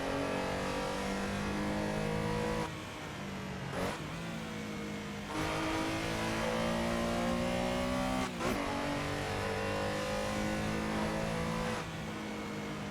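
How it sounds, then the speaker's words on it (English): Engine of a vintage 1973 Porsche 911 in the Assetto Corsa racing game on the Nemuno Žiedas track in Lithuania, a loud continuous rev that climbs in pitch, drops on brief gear shifts, then climbs again. "I'm driving a vintage Porsche 911, 1973"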